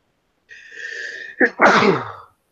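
A single close, loud sneeze: a drawn-in breath building up, then a sharp explosive burst that trails off, with no talking around it.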